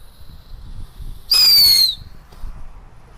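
A firecracker goes off inside a drain culvert at dusk, a single loud sharp burst with a brief hollow echo that stands out against quiet outdoor background rumble.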